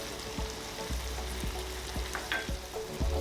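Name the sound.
chopped tomatoes and spices frying in pan for butter chicken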